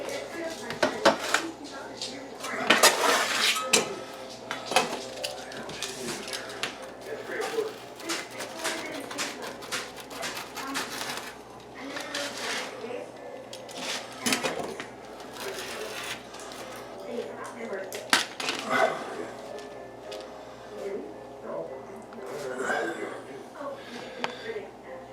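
Pizza cooked on a Blackstone griddle is sliced up, with repeated close cutting strokes and light clattering against the surface that carry on steadily for about twenty-five seconds.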